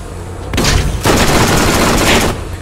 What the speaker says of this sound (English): You ran in front of my bullets,